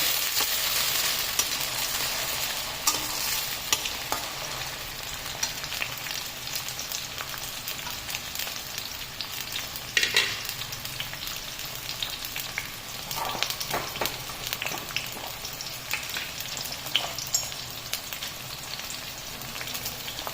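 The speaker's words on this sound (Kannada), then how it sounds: "ಇದೇ ಥರ ಟೊಮೆಟೊ ಹಾಕಿದ್ದೆ ಅದೊಂದು ಸ್ವಲ್ಪ ಫ್ರೈ ಆಗಬೇಕು" Tomatoes fry in a pan for a mushroom gravy with a steady, close sizzle and crackle that holds for the whole stretch, broken by a few louder stirring scrapes and pops.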